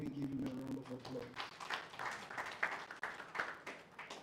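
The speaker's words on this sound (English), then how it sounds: "Can we give her a round of applause?" Audience applause at a live event in Nigeria, scattered clapping mixed with talk and crowd voices, uneven and moderately loud with a few sharper claps.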